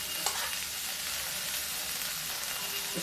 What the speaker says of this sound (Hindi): ये देखिए मेरा जो बॉइल्ड मक्का रखा हुआ, इसको चला देते हैं।